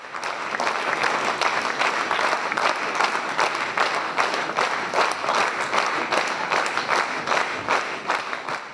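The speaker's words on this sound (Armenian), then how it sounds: "արժանացան բուռն եւ երկարատև ծափահարությունների" Long, stormy applause from a theatre audience after a stage play, dense steady clapping filling the hall throughout without letup.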